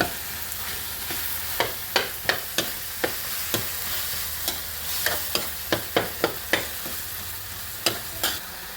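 Pork stir-fried for Thai nam prik ong chili paste, a utensil clacking repeatedly against the pan in an irregular rhythm over a low, constant sizzle.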